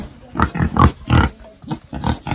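Pigs grunting and oinking up close, a quick series of loud, rough snorts with short gaps, no talk over them.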